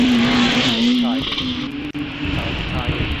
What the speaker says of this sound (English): Now a bit of tail wagging from the Eric Maury driven Hillman Imp on the way out